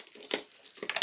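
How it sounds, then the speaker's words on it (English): Trading card pack sleeve being ripped open during a college football card break, giving short crinkling, tearing bursts of foil plastic that come close and fairly loud in uneven spurts. "Gonna rip open another sleeve here."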